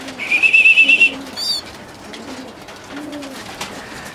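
High, rapid squeaking calls from pigeons in a quick run, followed by a brief flutter and quieter soft cooing sounds.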